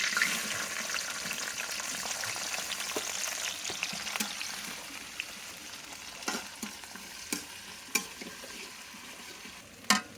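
Onion frying in oil with bay leaf, cinnamon and cardamom, a continuous close sizzle with scattered sharp taps of stirring, growing slightly quieter toward the end.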